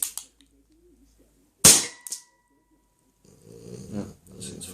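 A Colt 1911 gas blowback pistol, Blackwater edition, fires one sharp crack after a quiet pause, with a quick mechanical clack close after it; a faint soft hum and some low rustling follow.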